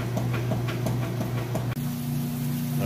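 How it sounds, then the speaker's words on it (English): A Whirlpool washer drains water with a steady low hum and faint regular ticking, then the motor tone shifts abruptly partway through and carries on evenly. "All right, and it is now draining out."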